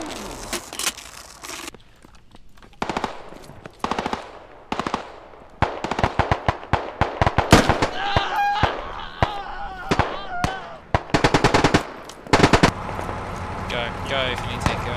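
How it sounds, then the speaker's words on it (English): Gunfire in the military shooter Squad, scattered sharp shots and rapid bursts near and far, with players talking over the firing. "Where's those shots coming from?"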